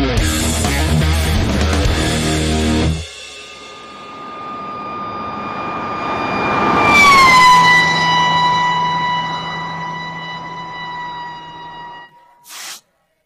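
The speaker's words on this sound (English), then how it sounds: "who doesn't want a siren at home?" A homemade 3D-printed siren spun up by a power drill wails with a strong, steady rising tone and bright overtones, loud and close, swelling midway before cutting off abruptly near the end.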